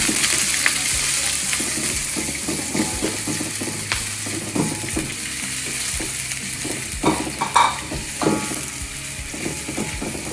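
Garlic and onions sizzle and crackle steadily in a hot pan over low heat, with occasional clanks and scrapes of stirring.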